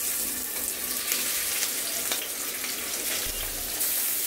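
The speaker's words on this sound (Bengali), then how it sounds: "কড়াইতে তেল দিয়ে দিচ্ছি, মাছটা ভেজে নিব।" Masala-coated tengra fish frying in oil in a wok, giving a steady, fairly loud sizzling hiss that runs unbroken throughout with no voices.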